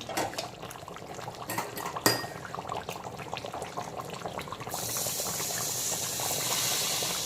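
Alkanet-infused liquid for chicken rogan josh is strained in a kitchen, with clinks of utensils and metal against the pot, then a steady rushing pour of liquid that carries on to the end.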